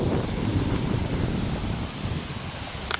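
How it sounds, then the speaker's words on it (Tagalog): Strong, steady wind roaring and buffeting the microphone, with rustling leaves mixed into the continuous rush. "Naririnig nyo ba yung lakas ng hangin?"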